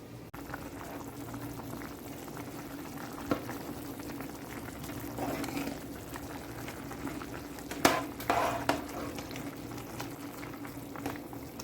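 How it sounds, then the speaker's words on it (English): Carrots and potatoes bubble in a boiling pot, a steady close rolling gurgle with a few brief clinks and splashes, no voices. "I'm just going to let it just continue to boil down"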